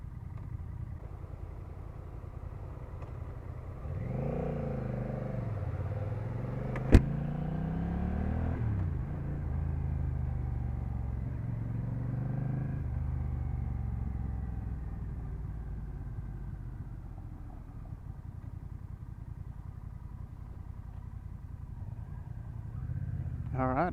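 A 2024 Honda Rebel 1100 cruiser motorcycle out on the road, a steady low engine drone that rises and falls with throttle changes over wind rumble, with one sharp click partway through.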